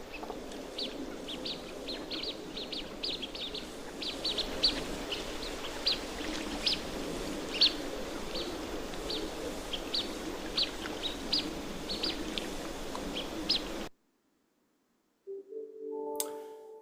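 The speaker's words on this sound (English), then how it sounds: "This is Drake blue-winged teals. They've got a little whistle call that we'll listen to here." A recorded drake blue-winged teal gives thin, high whistle calls, repeated in quick, irregular bursts over a steady low background hum. The calls are faint to moderate. The recording ends abruptly, followed by a short, clear tone.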